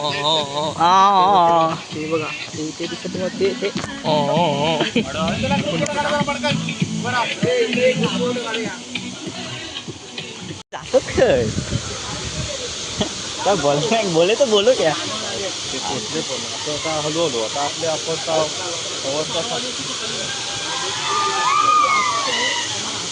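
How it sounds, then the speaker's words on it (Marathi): Rushing water at the Sav waterfall in the Konkan, a constant broadband roar running throughout beneath frequent close talking voices, with one brief dropout midway. "वेलकम टू साऊ धबधबा"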